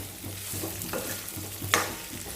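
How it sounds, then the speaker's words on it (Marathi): Potato bhaji with red chilli powder is stirred and mixed in a pan, soft rhythmic scraping strokes over a low sizzle, with one brief sharp clink near the end and no voices. "यामध्ये आपण हे चांगलं मिक्स करून घेणार आहोत"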